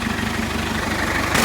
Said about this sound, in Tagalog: 4D56 turbo siya mga boss. Bali Mitsubishi po yung may gawa sa makina nito.